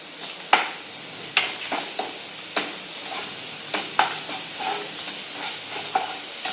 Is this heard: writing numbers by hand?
no